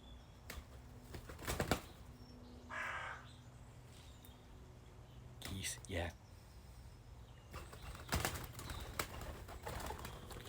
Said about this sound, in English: Speaking of bird-on-bird violence.